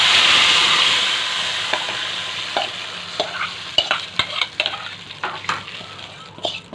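Soaked rice with salt stir-fried in a pan beside a cooking goose, a steady close sizzle under repeated scraping strokes of a utensil against the pan.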